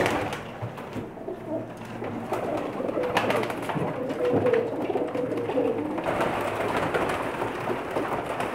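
Pakistani-bred breeder pigeons kept in Jeddah coo repeatedly and close by in soft, throaty rolling phrases, several birds overlapping against a low steady background rumble.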